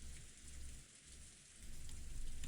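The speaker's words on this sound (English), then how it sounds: "the really, really low and relaxing sound of the rain" Rain from the visual novel game Umineko: a low, steady hiss of falling rain on surfaces, dipping briefly midway and then growing fuller. No one speaks.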